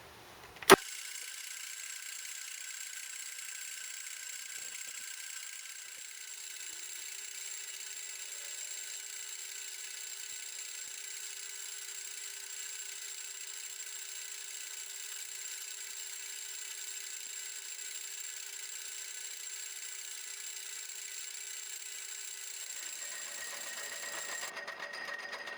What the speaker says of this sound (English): Now I've converted the lathe back to the 4-jaw chuck, and I'm going to try and face it off, make the whole block square.